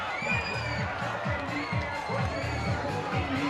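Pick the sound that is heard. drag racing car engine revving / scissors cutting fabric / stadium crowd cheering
stadium crowd cheering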